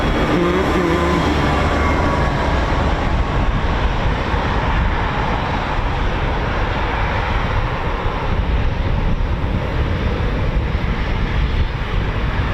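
A Eurofighter Typhoon FGR4 jet roars past at RAF Coningsby, a loud, steady, broadband rush sustained for several seconds with no voices over it.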